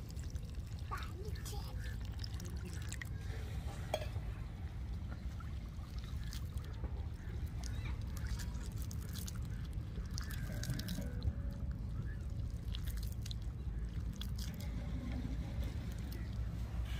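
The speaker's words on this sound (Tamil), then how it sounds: "இப்ப வந்து தண்ணி சேர்க்க போறோம்" Water is poured into a cooking pan while a Tamil banana sweet is being made. A steady, low pouring splash runs throughout, and a voice talks over it.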